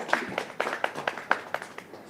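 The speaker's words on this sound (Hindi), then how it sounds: "जोरदार तालियों से स्वागत करेंगे जीशान का" A small audience at an Urdu poetry stage event claps to welcome a poet. The applause is a sparse run of about nine distinct, evenly spaced hand claps, fairly close, with no talking over them.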